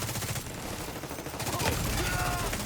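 Gunfire in a video game rattles on without a break as a dense, loud burst of rapid shots, some near and some farther off, with a voice faintly under the shooting.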